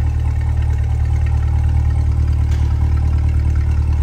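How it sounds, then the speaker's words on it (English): A 2023 Chevrolet Corvette 2LT coupe with the Z51 package idles, its exhaust giving a steady, loud, deep rumble that holds even and unbroken throughout, heard close with no talk. "listen to the exhaust idling here"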